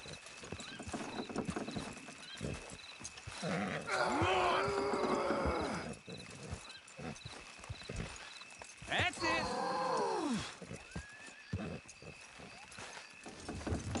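Horses in the video game Red Dead Redemption 2 clip-clop along at a walk, steady hoofbeats throughout, with two loud whinnies; someone speaks briefly.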